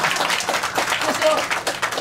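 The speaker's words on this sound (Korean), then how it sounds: "이럴 때 박수 한번." Applause from an audience at a lecture by a Korean politician breaks out briefly, scattered clapping mixed with talk and crowd murmur.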